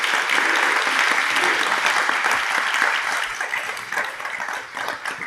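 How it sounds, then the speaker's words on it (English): Warm applause for panelists and a moderator at the Seoul AI Policy Conference, a full, steady round of clapping from a large audience that eases slightly toward the end. "Please give another warm round of applause for our panelists and moderator"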